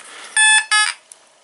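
Fisher metal detector giving two short, bright electronic signal tones over a buried target, each about a quarter second long, followed by a faint blip, all close and clear.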